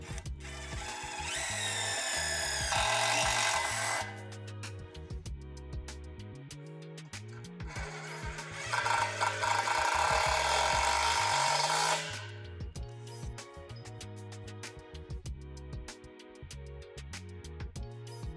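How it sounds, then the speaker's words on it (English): Power drill driving self-tapping screws into metal poles of a portable basketball system, two loud whirring bursts of several seconds each, close up, with clunking handling noise and background music between them. "locate these other small holes and secure with the self-tapping screws"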